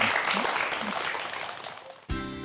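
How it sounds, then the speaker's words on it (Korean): An audience at a Korean lecture on future self-driving cars applauds a speaker, sustained even clapping that tapers slightly before music cuts in abruptly at the end. "여러분 박수 한번 부탁드리겠습니다"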